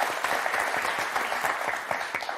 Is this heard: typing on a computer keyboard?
no